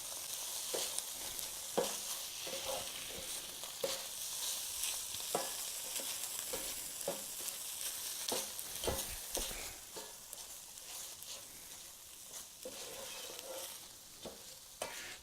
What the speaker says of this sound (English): I'm just going to stir for about 30 seconds to a minute, because I just want to get them to give off a little flavor from the heat.